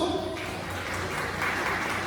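A church congregation claps in praise during a healing and deliverance service, a brief, dense wash of steady applause with voices mixed in.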